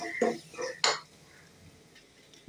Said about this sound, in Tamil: இப்போ கொஞ்சமாக அக்கா கறிவேப்பிலை போட்டுடலாம். போட்டு நல்லா வதக்குவோம்.